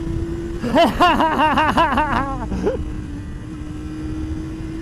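A Kawasaki ZXR400 motorcycle engine idles with a steady hum, then revs up and down repeatedly in quick bursts before settling back to idle.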